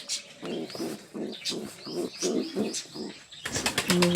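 Silver fantail pigeons coo in soft, repeated low phrases, with a burst of wing flapping near the end; close and moderately loud.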